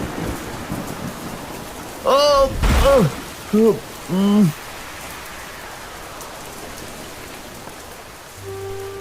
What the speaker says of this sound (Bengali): এত তাড়াতাড়ি এমন ঝড় উঠলো কিভাবে